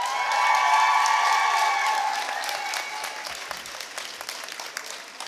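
Graduates at a 2023 graduation ceremony give a sustained round of applause for their family and friends, a dense, loud wash of clapping from a large crowd that gradually thins and fades toward the end.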